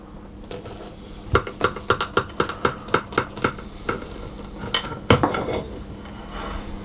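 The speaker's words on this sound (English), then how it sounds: "So what I'm going to do is just cut a small slice out of that if I can." A knife saws through a slice of Tosca almond praline cake in a quick series of about a dozen evenly spaced crisp clicks and scrapes against the crunchy topping, up close, followed by a louder final crunch.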